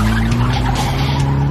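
A powerful scrap car built in a London garage roars loudly under hard acceleration, engine droning steadily with a tonal whine and no windscreen.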